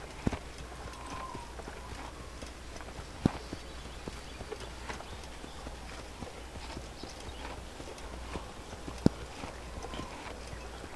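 Horse hooves clip-clop at a steady walking rhythm along a road in the video game Assassin's Creed, with a rider wearing an assassin's cloak; moderately loud, continuous footfalls over a soft ambient bed, with no talking.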